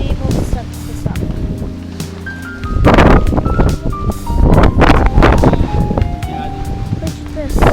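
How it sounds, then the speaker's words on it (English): Strong wind at a beach campsite near Point Mugu roars and buffets steadily in the low end, loud and close, while people talk over it throughout. "the wind is so strong"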